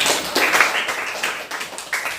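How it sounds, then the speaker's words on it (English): Schoolchildren in a classroom give a short round of applause during a lesson, a few uneven bursts of clapping from a small group, close and moderately loud. "Let's give a round of applause."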